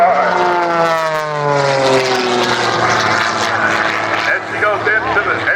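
Extra 300 aerobatic propeller plane climbing at an airshow, its engine droning loud and steady with a falling pitch sweep as it passes, an announcer talking over it.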